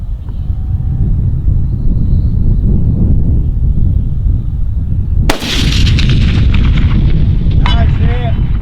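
A single loud, sharp report from a .243 Win Ruger Precision Rifle fired at 600-yard steel outdoors, cutting through steady wind rumble, followed by a faint distant ring of the struck target.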